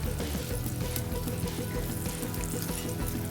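Bacon frying in a pan crackles and sizzles densely and continuously, close up and fairly loud, with no voices present.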